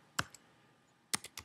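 Several crisp computer-keyboard keystrokes, close and fairly quiet: one tap, a pause, then a quick cluster of four or five clicks at the end.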